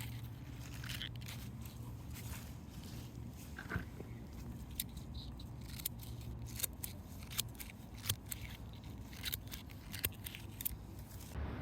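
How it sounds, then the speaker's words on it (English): Hand pruners trim the edges of creeping phlox in a rock garden, a series of crisp, quiet snips spaced irregularly over a faint outdoor background, growing more frequent toward the end. "give our creeping phlox a little bit of a shaping haircut with some pruners"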